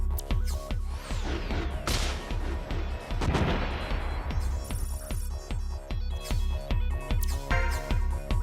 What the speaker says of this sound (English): God, all of those missiles hit him on the body.